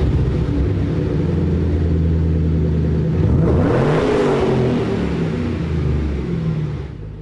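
Car with a newly installed Borla aftermarket exhaust runs as a steady loud engine rumble, with a swelling rev around the middle that eases back to idle, heard alone without talk.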